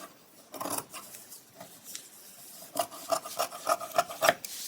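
Scissors cut through fabric around a paper pattern piece, giving soft, close rasping snips that start sparsely and then come in a quicker, louder run toward the end.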